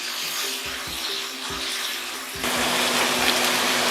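Water pours steadily into a pan of macaroni with masala during restaurant-style home cooking, a close continuous splashing rush that swells louder partway through, heard alone.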